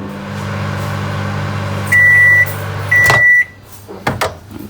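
A microwave oven hums with a steady low drone, then gives two long electronic beeps. A door clunks and rattles as it opens, loud and close, with no speech.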